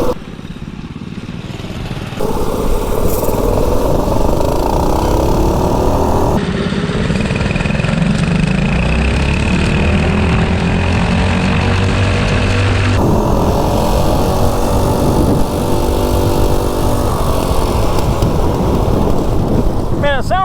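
A two-wheel drive mini bike runs at speed with a steady, loud engine drone that sounds like a 2-cylinder, broken by wind buffeting the microphone and shifts in pitch as it accelerates.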